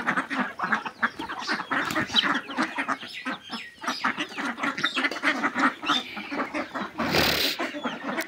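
A flock of domestic ducks quacking continuously in a backyard pen alongside chickens, dense overlapping raspy calls close by, with a burst of hiss-like noise near the end.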